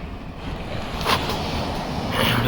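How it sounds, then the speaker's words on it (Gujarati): Sea waves wash in on the shore near Dumas at early morning, a broad continuous rush with a swelling surge midway, mixed with wind buffeting the microphone. "દરિયો હાવ નજીક જ છે. જો આ મોજું આવે છે."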